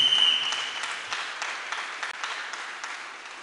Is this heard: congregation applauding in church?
yes